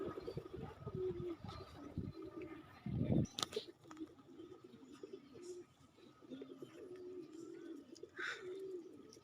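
A pigeon coos in soft, low repeated phrases close by, with a brief rustling burst midway and a few faint chirps in the background.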